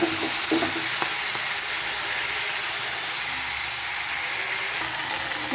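Mixed vegetables hit hot mustard-seed tempering in a pan for a vegetarian dish, setting off a loud, continuous sizzle with a few early clinks of stirring, steady and close throughout.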